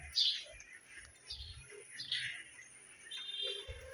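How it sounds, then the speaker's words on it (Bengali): An oriental magpie-robin calls in a city vegetable garden after rain, giving several short, bright chirps and whistles spread across a few seconds, faint to moderate against low background noise, with no voices. "এখানে দেখেন একটা দুয়েল পাখি আসছে কোন জায়গা থেকে হঠাৎ করে"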